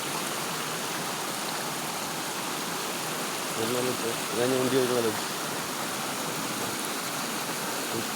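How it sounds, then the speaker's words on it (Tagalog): Stream water flowing down among rocks, a steady broad rushing wash heard close throughout, with someone talking briefly over it. "Galing yung tubig galing sa taas."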